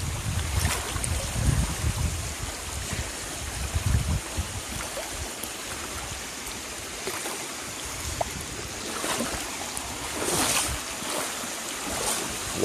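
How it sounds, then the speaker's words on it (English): Fast-moving stream water rushes and gurgles steadily over bedrock nearby, with occasional splashes and no talking. "Water's moving a little fast down through here"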